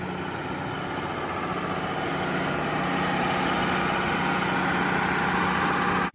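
Allis Chalmers 7020 tractor with 3900 original hours runs nearby, its engine a steady rumbling idle with a constant mechanical hum that cuts off abruptly at the end.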